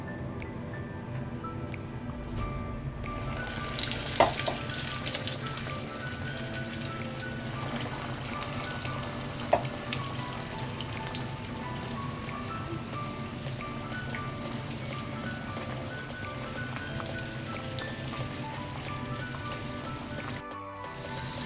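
Chicken pieces rubbed with masala, KFC-style Kerala fried chicken, deep-frying in hot oil at home, a steady loud sizzling crackle like rain that runs unbroken, with a couple of faint clicks and no talk.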